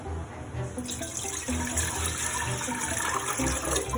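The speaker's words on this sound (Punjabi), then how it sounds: "ਇਹਦੇ ਵਿੱਚ ਆਪਾਂ 5 ਗਲਾਸ ਪਾਣੀ ਪਾਵਾਂਗੇ" Water splashes and streams steadily into a metal pressure cooker, a continuous close pour that grows a little louder partway through.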